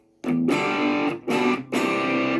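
An electric guitar runs through a Boss DS-1W distortion pedal set to minimum gain, giving loud, mildly gritty strummed chords in three bursts with brief gaps between them.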